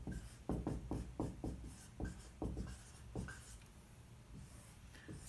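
A marker or chalk writes on a board in a lecture room, a run of quick scratchy strokes in bursts, close and quiet, then slowing to a few sparser marks, with no talk.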